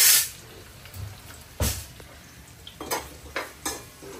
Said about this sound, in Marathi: घराच्या चम्मच घे आणि कांद्याला परतव मस्त